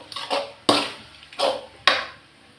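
Butter cheese pasta being stirred and mixed in a pan: a handful of sharp utensil scrapes and knocks against the metal, irregularly spaced, close and fairly loud with no talking.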